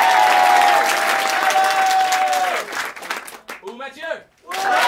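A crowd at an improvisation show applauds loudly with cheers and a long held shout, then the clapping breaks into scattered bursts before surging again, with voices mixed in.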